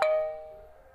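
A phone rings with a single bright electronic chime that strikes sharply, then rings on and fades over about a second, alone and close.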